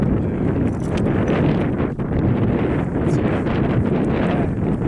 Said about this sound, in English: The wind's coming back up now.